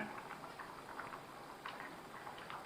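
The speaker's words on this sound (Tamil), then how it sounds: "சூப்பராக கொதிக்குதுங்க" A pot of Madurai-style chicken curry bubbles steadily at a low simmer, soft pops and gurgles continuing throughout without any talking.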